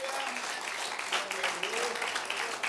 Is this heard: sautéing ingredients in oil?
no